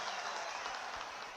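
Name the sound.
audience applause at political rally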